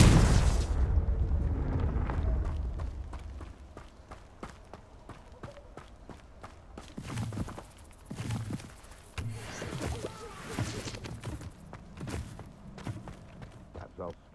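A Confringo blasting curse goes off in Hogwarts Legacy with a loud opening boom that decays over a few seconds, followed by scattered quieter thuds, impacts and footsteps, with some talking.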